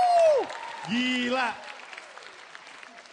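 A stand-up comedy competition audience claps for the comedians after a loud excited voice shouts. Moderate, scattered applause then fades into a quieter crowd murmur.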